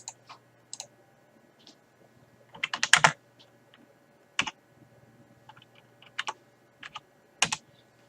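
Typing a command on a computer keyboard: sparse, irregular clicks and short bursts of keystrokes, close and clear against a quiet background.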